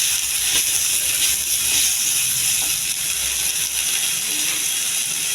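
A chilli fries in a hot pan for coconut chutney, sizzling as a loud, constant hiss of oil that stays steady from start to finish.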